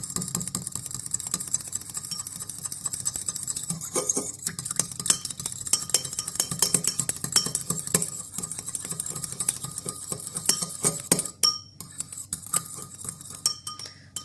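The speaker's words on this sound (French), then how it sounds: "À présent, je vais remuer. Donc le mieux, je pense que c'est de prendre une fourchette." A fork stirs olive oil and lemon juice for a natural hair-lightening mix, making rapid, continuous close clinks and scrapes against the container for over ten seconds before slowing near the end.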